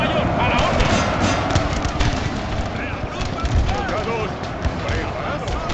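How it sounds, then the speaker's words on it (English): Cannons fire across a Napoleonic battlefield in the Napoleon Total War strategy game, with repeated booming shots and crackling gunfire layered in a dense, noisy battle din, alongside voices. "The cannons are shooting."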